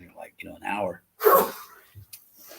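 A single sharp sneeze bursts out close by after a short stretch of someone talking, with quiet pauses around it.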